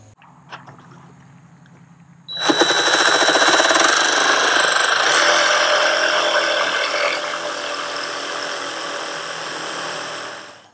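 An angle grinder fitted with a grinding wheel spins up and cleans the edges of a welded metal brush guard, a loud sustained whine and hiss that starts abruptly and holds for about eight seconds.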